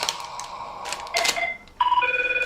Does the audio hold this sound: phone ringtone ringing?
yes